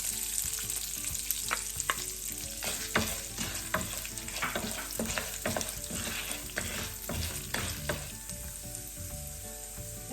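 Chana dal fries in a pan while being stirred, giving a constant crackling sizzle broken by repeated scraping strokes from a spoon, close and moderately quiet, with no voices.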